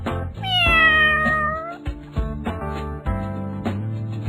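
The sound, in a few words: cat meowing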